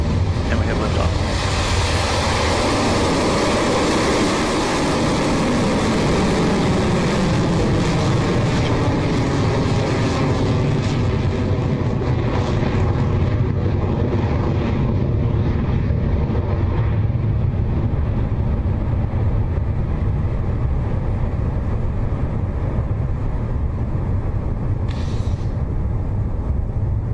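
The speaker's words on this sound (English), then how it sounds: "Our 45th Electron is now in the air, having successfully lifted off the pad at Launch Complex 1" A Rocket Lab Electron rocket lifts off from Launch Complex 1 with a continuous roaring, crackling rumble. The sound is loud and sustained, heard from a distance, and slowly loses its high end as the rocket climbs away.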